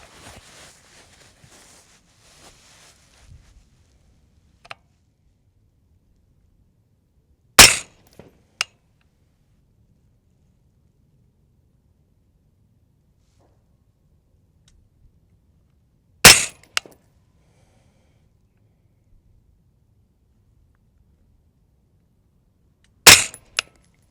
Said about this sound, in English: I will shoot the top right now